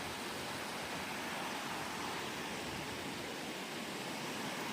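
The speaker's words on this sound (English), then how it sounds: "this is Duck Creek, I think," Duck Creek, the outlet of Duck Lake in the Sierra, rushes in a steady, dense wash of flowing water, close and constant with no talking.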